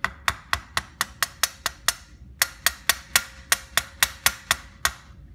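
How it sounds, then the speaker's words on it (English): A small hammer taps at a tightly sealed carburetor on a Briggs and Stratton engine, a Gravely 800 Series, with about twenty sharp metallic strikes in quick, steady bursts, a short pause between two runs, close and clear. "I need a little hammer."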